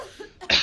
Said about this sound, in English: had to cough at the same time his character had to cough